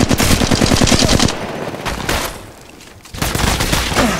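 Rapid automatic gunfire bursts from Apex Legends Mobile, a fast rattling volley up front, a short lull, then another loud sustained burst of shots.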